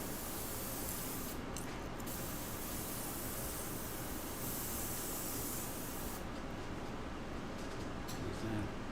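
Airbrush spraying paint over a layer of glitter for shading, a steady close hiss of air that runs continuously with slight shifts in brightness and no pauses.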